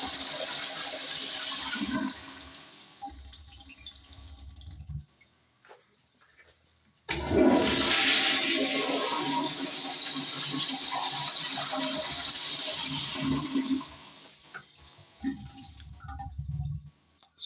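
A vintage 1962 Standard toilet flushes with a loud rushing gush, pauses briefly, then roars again with swirling water and a long refill hiss that fades toward the end.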